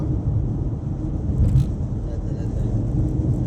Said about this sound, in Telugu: ఆడ ఎయిర్పోర్ట్ దగ్గర ట్రాఫిక్